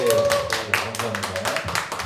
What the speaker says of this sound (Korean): 열렬한 박수로 더 뜨겁게